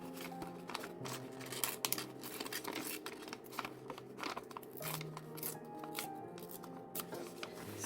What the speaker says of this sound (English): Let me just rip this because I don't want the straight edges.